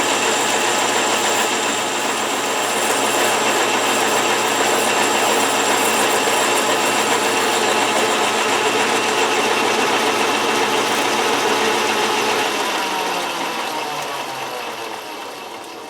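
A 1931 South Bend 11-inch lathe makes a steady, even cut through oiled metal, with a constant machine drone and cutting hiss. The sound fades slightly near the end.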